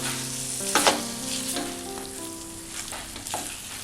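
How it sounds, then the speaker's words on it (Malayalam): Chicken roast masala with garam masala and curry leaves sizzling in a pan while being stirred, with a few louder scrapes of the spoon over a steady fry, no talking. "അതിനുശേഷം ഇതൊന്ന് നന്നായിട്ടൊന്ന് മിക്സ് ചെയ്തെടുക്കാം."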